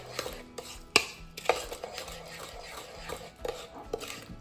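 Zucchini cranberry muffin batter stirred in a bowl, a series of soft scraping and knocking strokes of the spoon against the bowl, close and moderately quiet.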